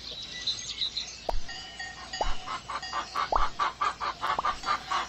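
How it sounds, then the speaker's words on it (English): Chickens in a video game cluck in short, repeated bursts, a busy rhythmic series of clucks with a few sharp clicks mixed in, fairly clear and close. "Ooh, chickens."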